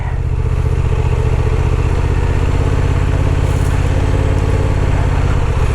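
Honda Transalp 750 motorcycle climbing uphill through sand and grass off-road, its engine droning loud and steady throughout at close range with a rough, continuous rumble and no talking.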